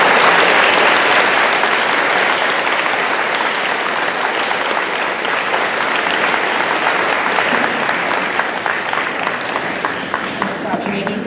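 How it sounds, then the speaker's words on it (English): An audience at a middle school eighth grade ceremony gives honor roll students sustained, loud applause, a thick steady roar of clapping that fades a little toward the end. "And let's give these students a round of applause."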